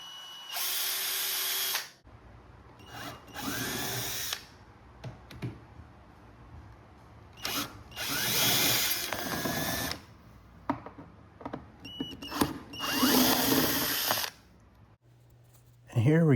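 A Saker 8V cordless drill spins in several close bursts of a few seconds each, its whine rising and falling as the speed is feathered, with handling clicks and a few spoken words between runs.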